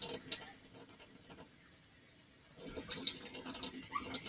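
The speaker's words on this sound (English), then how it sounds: "And now we're just going to rinse the sink." A kitchen tap runs to rinse a sink. There is a soft splash first, then a quieter lull, and the water returns as a steady, brighter gush with scattered drips and clinks.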